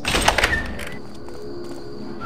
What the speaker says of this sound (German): Und die Türen wieder schließen.